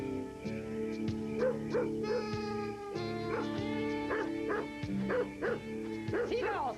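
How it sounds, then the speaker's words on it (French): A cartoon dog barks and yips in a quick series of sharp, close barks over background cartoon music, the yelps bunching into bursts across the whole stretch. "Silence, le chien!"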